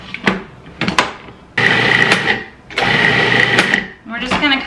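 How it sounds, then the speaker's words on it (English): A blender purees egg salad with mayonnaise and celery in two sustained, loud whirring bursts with a steady motor whine, framed by short clattering sounds and a brief voice at the start. "We're just going to kind of puree this up and see what consistency is."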